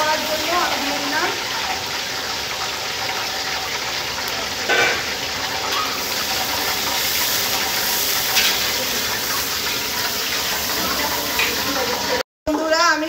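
Onions frying in hot mustard oil, a continuous hissing sizzle that runs throughout beneath a person talking, with a brief dropout near the end.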